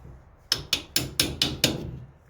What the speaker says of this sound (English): it's a little on the tight side, so we'll just tap it in